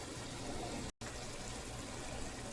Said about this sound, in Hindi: अब हम इसमें थोड़ा सा पानी ऐड करेंगे ताकि जो स्पाइसेस हैं वो जले नहीं।